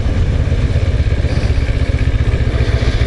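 A motorcycle ridden along roads in the Philippines, its engine droning steadily and loud with a rough, clattering mechanical texture throughout, close up with no voices.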